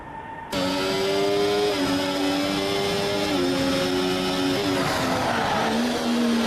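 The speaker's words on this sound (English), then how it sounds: "Heavy braking." An F1 car in the F1 24 racing game at Zandvoort screams at high revs, with the engine pitch stepping down through the gears under heavy braking and a rising tire squeal toward the end, loud and continuous.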